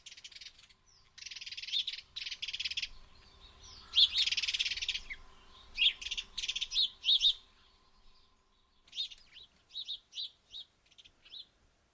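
Sparrows chirping in a series of bright, clustered bursts, some rapid and dense, others short separate chirps, fairly close and clear with no talk over them.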